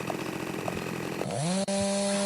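A chainsaw in a zombie video game, first rattling at idle, then revving up sharply into a loud sustained whine with a brief dip before holding high.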